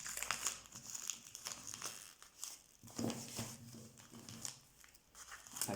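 Wrapping paper and a small gift package crinkle and rustle close up as it is opened, a busy, continuous crumpling with brief tearing sounds.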